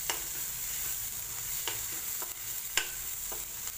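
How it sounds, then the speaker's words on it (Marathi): Green chili and garlic paste sizzles steadily in a pan while a spoon stirs it, giving a few soft scraping strokes. The cooking is for spicy horse gram kadhan, and nobody speaks. "घालायचं आणि व्यवस्थित परतून घ्यायचं."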